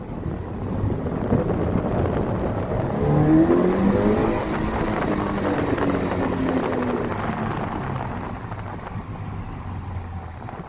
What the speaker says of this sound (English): I'm gonna give it a little bit of gas just to help me go in faster, so I get off quicker.